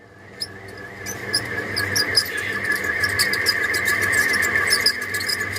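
A ceiling fan with worn-out bearings whirs with a continuous high-pitched squealing whine and rapid rhythmic ticking, growing slightly louder as it runs.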